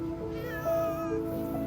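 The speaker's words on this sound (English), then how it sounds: "Did y'all hear the cat?" A cat gives a drawn-out, tonal meow, close and clear, rising then easing off over about a second, with a quieter second call following against a faint background.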